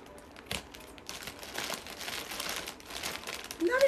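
Gift wrapping on a Christmas present crinkles and rustles as it is pulled open, irregular soft crackles that stay fairly faint and close throughout.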